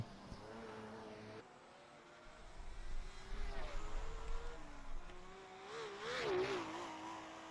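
A Ford Capri Group 5 race car at the Norisring runs over bumpy track, its engine revving and wavering as the pitch rises and drops. It sounds somewhat distant, with faint commentary underneath.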